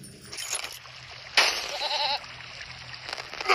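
Goat bleat in the puzzle video game There Is No Game, a short wavering cry in the middle, with glitchy electronic game sounds and a splash-like burst around it.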